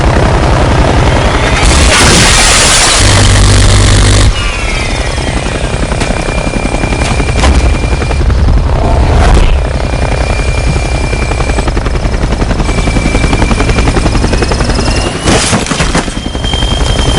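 A helicopter chases the player in the Saints Row 2 video game, its rotor roaring loud and constant throughout, with heavy booms and bursts of gunfire breaking in, no talk.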